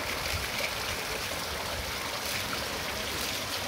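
Water runs steadily while a sack used for fish is washed, a continuous rushing, trickling wash of sound with no clear breaks or voices.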